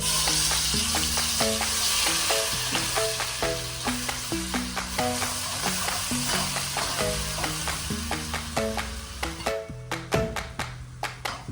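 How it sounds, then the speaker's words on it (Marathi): Ground masala paste frying in hot oil for sukka chicken, with a loud, steady sizzle and repeated scraping and stirring clinks against the pan throughout, and no voices. "आपण वाटण केलेला मसाला तेलात परतून घेऊया"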